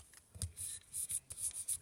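6-inch designer paper being creased and folded into a pyramid treat box without glue, giving soft close rubs and crisp creasing swipes in short repeated bursts.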